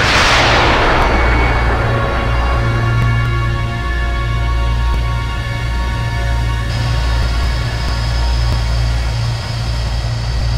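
A submarine fires a torpedo in the naval combat game Cold Waters: a loud, sudden launch blast that fades into a low, droning mechanical rumble and whine lasting several seconds, with no voices.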